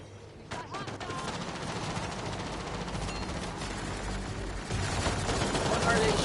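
Sustained rapid gunfire in the Mass Effect Andromeda video game, dense overlapping bursts that build and grow louder toward the end, with some voice underneath.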